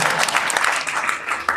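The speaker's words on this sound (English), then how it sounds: "Clap for me." A crowd at a national economics summit claps at a speaker's prompt. The applause is brief and dense, a loud wash of many hands with no voices over it.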